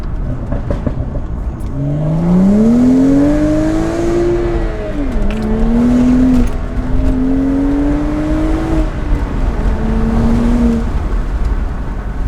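A BMW E82 135i with full bolt-ons, about 370 hp, revs up hard through several rising gear pulls, loud and close, with a deep throaty exhaust note.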